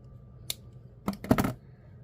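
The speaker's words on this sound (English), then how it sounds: "Now we're going to snip off the excess." Scissors snip off the excess cord of a Botswana agate necklace, a quiet click followed by a brief cluster of two or three close, sharp cuts, with no talking.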